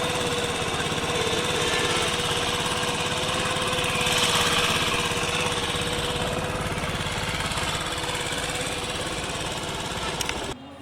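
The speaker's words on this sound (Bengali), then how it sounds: "তো বন্ধুরা বাইকটির সাউন্ড" A small Hero 100cc motorcycle engine with a recently replaced piston runs steadily at idle, a continuous buzzing rattle close by, with no talking, cutting off abruptly at the end.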